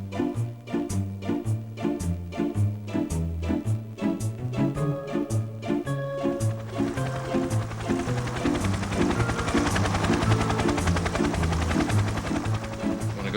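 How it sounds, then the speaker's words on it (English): A coaxial helicopter with counter-rotating blades and no tail rotor flies nearby, with a rhythmic, pulsing rotor beat and tonal drone that thickens into a denser, rougher roar partway through. "Looks a lot like a helicopter, but unlike a helicopter, it has an extra blade."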